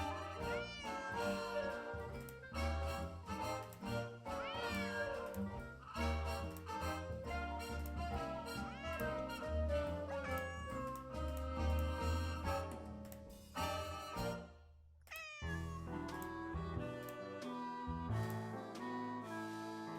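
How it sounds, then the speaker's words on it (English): A cat meows repeatedly in the Nancy Drew: Secret of the Old Clock computer game, with drawn-out, gliding cries set over steady background music and a brief pause partway through. "Why do you keep ignoring your cat?"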